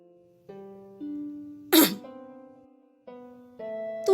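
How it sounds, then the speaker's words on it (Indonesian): A young gentleman in an Indonesian audiobook drama clears his throat in a single short, sharp burst midway, set against soft sustained tonal background music. "Tuan muda itu berdeham,"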